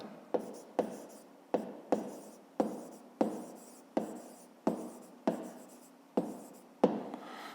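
A pen writes an answer by hand on paper, making about a dozen sharp, evenly spaced strokes up close that each fade quickly, with a quiet pause between strokes.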